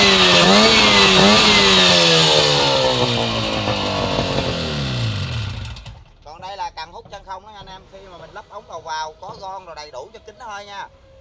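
A small two-stroke Shibaura fire pump engine runs loud and buzzing for about six seconds, its pitch sliding down as it dies away, then someone talks.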